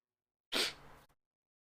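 A single sharp sneeze bursts out close by after a brief silence, then trails off into a short breathy tail before silence returns.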